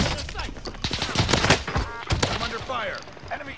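Video game gunfire crackles in rapid bursts and scattered shots, mixed with game sounds and a voice talking over the action.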